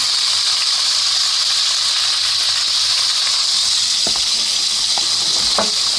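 A marinated meat roast fries in a pan with a steady, loud hiss and sizzle that runs throughout. A few faint clinks sound near the end.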